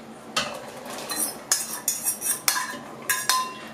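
Chopped young beets and leek go into a soup pot with a spoon, giving a series of sharp metallic clinks and scrapes, close and irregular, with no talk.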